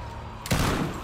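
Gunfire in The Walking Dead: Survival Instinct, a sudden loud burst after a quiet moment, followed by a sustained, rumbling volley that fills the rest of the moment.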